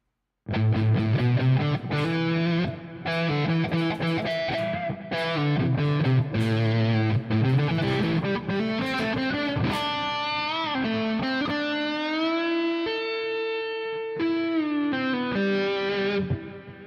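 A distorted electric guitar, played through Amplitube 5 amp and pedal simulation, plays a sustained melodic line of bends and held notes, loud and washed in a bright digital reverb tail, with no voices.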